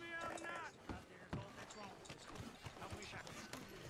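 A horse being ridden in Red Dead Redemption 2 produces soft, irregular clip-clopping hooves at low volume, mixed with game ambience. Someone speaks in German over the hoofbeats.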